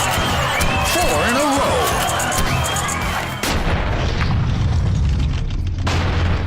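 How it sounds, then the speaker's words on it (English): A heavy airstrike explosion in the hunting video game Cabela's African Adventures, a loud booming blast with rumbling debris that rolls on for several seconds, heard over game music and effects. "Call in an airstrike!"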